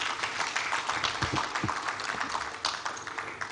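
A round of applause at the 15th Abuja International Housing Show in Nigeria: steady, moderately loud crowd clapping throughout, with a few low thumps mixed in.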